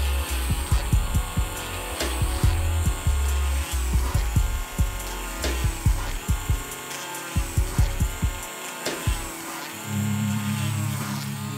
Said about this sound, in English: In the next step, we have to drill the holes for the headers.